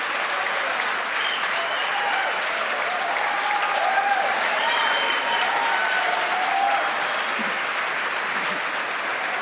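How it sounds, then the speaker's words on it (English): A crowd cheers and applauds as a SpaceX Falcon 9 booster lands on a drone ship during the launch of the Thai satellite KNACKSAT. The clapping and cheering roar is loud and sustained from start to finish. "The crowd cheers here."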